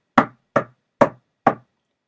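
Four firm, evenly spaced knocks on a door, loud and close, played as a story sound effect with silence between each rap.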